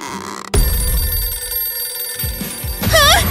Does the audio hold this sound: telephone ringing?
yes